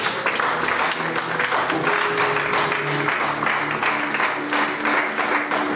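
A church congregation bursts into sustained applause, dense clapping that fills the room steadily for several seconds, loud and close, with faint voices and tones mixed beneath.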